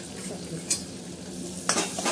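Hot tempering sizzles steadily for a ridge gourd curry with tomatoes and coriander in the pan, under a continuous frying hiss with two brief louder stirring scrapes.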